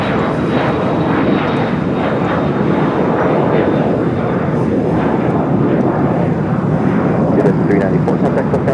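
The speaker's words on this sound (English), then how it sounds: "let's head back to the north side at China Eastern, Flight 583, coming in from Shanghai" China Eastern flight 583 arriving from Shanghai at LAX: a steady, loud jet roar fills the whole stretch, broadband and continuous, with talk underneath.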